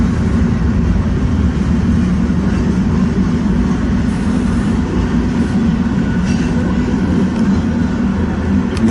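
An eastbound manifest freight train rolls steadily past at night on a freezing evening, making a loud, close, continuous rumble of wheels and railcars with rhythmic clatter from the track joints throughout.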